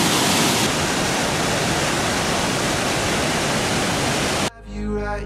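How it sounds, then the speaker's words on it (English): A powerful, violent waterfall in the Quebec City area crashes over rock where it has carved a dozen holes. It makes a loud, unbroken roar that cuts off abruptly near the end as music begins. "very violent waterfall."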